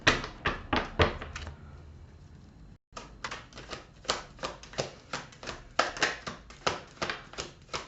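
Tarot cards dealt one after another onto a table for a mid-month Gemini reading: a steady run of crisp, close slaps and taps, briefly pausing partway, then resuming in a quick regular rhythm, with no talking.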